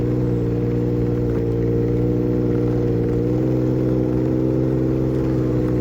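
A 2024 Ski-Doo Expedition Extreme 900 Turbo R snowmobile putters slowly in low range, its engine a loud, steady, even drone with no change in pace.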